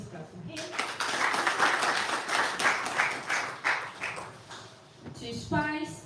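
An audience at a schools debate championship final applauds a panel speaker, a full burst of clapping that fades before a voice resumes talking.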